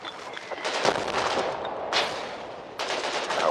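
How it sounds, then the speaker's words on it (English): Howitzer artillery and gunfire in a war video game: dense, loud bursts of shots and blasts come in three main waves, with a constant roar of battle filling the gaps between them. "Howitzers very active."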